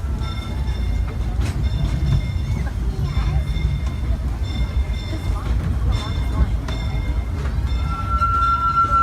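The Disneyland Railroad train rolls along its tracks at sunset, a steady low rumble with faint clicks and a thin squeal near the end, heard close up throughout.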